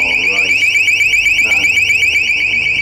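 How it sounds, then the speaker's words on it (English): A motion alarm sounds loudly and close, a rapidly warbling high-pitched electronic tone repeating steadily throughout, with a voice murmuring faintly underneath. "This motion alarm."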